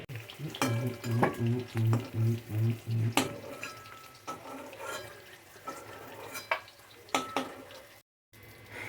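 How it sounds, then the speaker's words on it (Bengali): Whole spices for a dhaba-style egg curry sizzle in hot oil, close and steady, broken by clinks and scrapes of a spoon against the pot, with a short cut to silence near the end. "দেখো ফোড়ন দিয়ে নিয়েছি"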